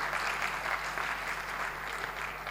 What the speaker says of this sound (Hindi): और दोनों हाथ को इसको तालियों में बदल दीजिए